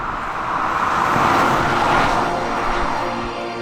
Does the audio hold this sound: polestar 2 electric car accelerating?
yes